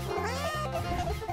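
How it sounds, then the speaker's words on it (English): A kitten gives a brief, loud meow over a steady tonal background. "Who's this? A sweet kitten."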